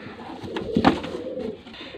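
Pigeons coo in a short, soft burst that peaks midway, with no talk, from top-quality birds being shown in Faisalabad, Pakistan.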